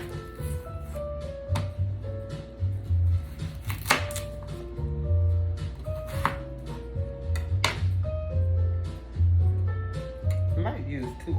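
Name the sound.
chopping a whole onion for seafood boil sauce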